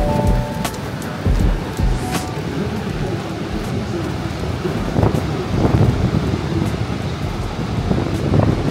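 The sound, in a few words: Niagara Falls water and wind heard from boat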